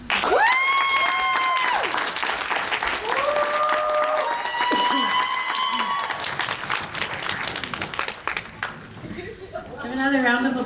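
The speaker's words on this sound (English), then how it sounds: "Give another round of applause for our 4 semifinalists." Loud audience applause and cheering at a student conference poetry slam, with whoops and shouts over the clapping throughout and a voice rising near the end.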